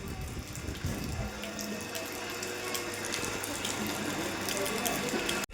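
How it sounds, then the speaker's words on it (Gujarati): Water gushes from a rooftop tank onto a terrace, a steady rushing flow close by with some rattling clanks mixed in. "આવ્યું પાણી."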